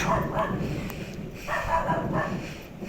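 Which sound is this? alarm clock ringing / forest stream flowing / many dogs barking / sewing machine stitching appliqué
many dogs barking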